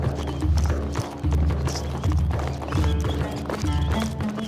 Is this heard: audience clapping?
no